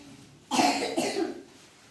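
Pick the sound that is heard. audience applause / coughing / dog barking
coughing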